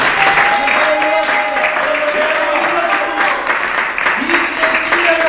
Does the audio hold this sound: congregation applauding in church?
yes